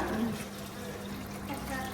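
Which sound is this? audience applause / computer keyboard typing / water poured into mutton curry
water poured into mutton curry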